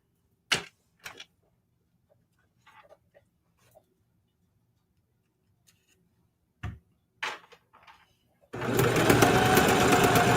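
A Singer HD sewing machine stitching scrap-fabric letters starts and stops in short clicks and taps after a mostly quiet stretch, then runs in a steady, loud whirring burst at the end.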